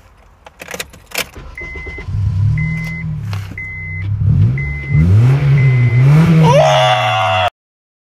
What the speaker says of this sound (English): when I turn on my car, it's gonna sound like this.